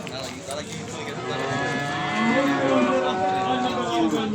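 Calves at a livestock market in Beylagan mooing, one long drawn-out, loud, nearby moo rising and holding over market background noise and faint voices.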